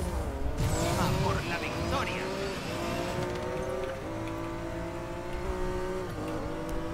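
A Porsche races in the video game Need for Speed Payback, its engine revving and shifting through gears with tire noise layered in. Game audio runs loud and continuous while someone talks over it.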